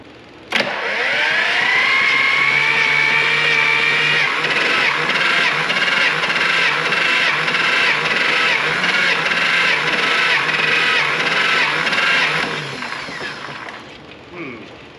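An air-cooled Lister diesel engine that has run out of fuel is cranked over with a steady, loud, rhythmic chugging. It rises abruptly, holds for about twelve seconds, then winds down without catching.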